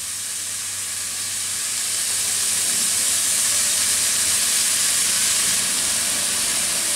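Sago khichuri with winter vegetables fries with turmeric and cumin powder in a pan, giving a loud, continuous sizzling hiss up close that swells slightly partway through.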